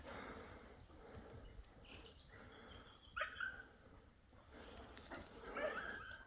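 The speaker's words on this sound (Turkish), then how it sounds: "Bir tane köpek gelmiş buraya." A dog whimpers and gives a few faint, high yips and short barks, distant and quiet over a soft outdoor background.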